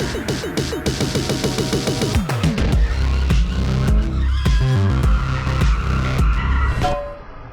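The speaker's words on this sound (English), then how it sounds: "when you pull the trigger here, the car will go." A remote control toy car driving on a track in Southern California, with repeated rapid squealing skids and whining motor bursts, loud and close, busy and chaotic throughout without talk.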